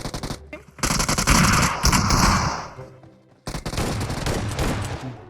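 Bursts of automatic gunfire crackle loudly in the battle royale shooter PUBG Mobile, with rapid sustained volleys, a brief pause near the middle, then another long burst of close shooting.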